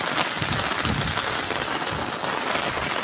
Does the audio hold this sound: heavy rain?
yes